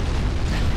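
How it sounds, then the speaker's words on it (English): A single deep, muffled torpedo explosion from a naval warfare game, fired by a friendly cruiser, booms loudly through the brief moment with no voices. "Oh, torpedoes from my own cruiser"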